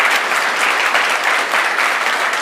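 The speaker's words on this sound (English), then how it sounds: "could I have a round of applause for our platinum sponsor" A conference audience at the PyCon AU 2025 opening applauds a sponsor with dense, steady clapping that fills the room at a constant loudness throughout, with no talking over it.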